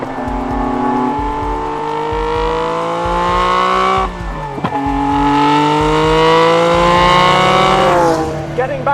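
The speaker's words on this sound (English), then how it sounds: "911 with an F1 engine in it again" A Porsche 911 Turbo carrying a Formula One engine revs hard close by, its pitch climbing through gears with a sharp drop near the middle and another shift near the end, loud and continuous.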